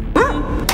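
A dog gives one sharp, close bark with a falling yelp-like tail, loud and brief, followed by a second short burst.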